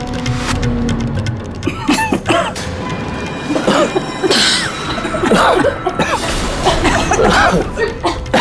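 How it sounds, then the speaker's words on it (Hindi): Several people break into sudden, overlapping coughing and throat clearing at a meal in a Hindi crime drama, loud and close, with bursts of chuckling mixed in throughout. "सब लोग अचानक खांसने क्यों लगे?"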